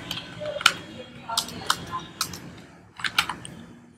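Bursts of computer keyboard typing while a site name is entered, a few quick clusters of keystrokes separated by short gaps, close and clear over a faint background hum.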